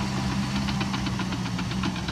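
A Cat dozer engine with grade technology runs steadily at close range, a loud diesel drone with a rhythmic knocking pulse and mechanical clatter.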